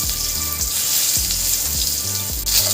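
Turmeric and salt stirred into hot oil with potato and gathi kachu in a pan, giving a steady close sizzle with repeated scraping strokes of a spoon across the pan.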